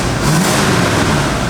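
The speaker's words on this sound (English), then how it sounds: "Listen to the car." A 1972 Chevrolet Chevelle SS, an original one-owner survivor car, revs hard up close, its engine holding a loud, steady, throaty roar throughout with no talking over it.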